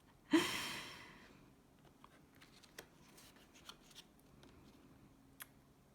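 Tarot cards are riffled in one quick, crisp burst, followed by faint rustles and small taps in a quiet room.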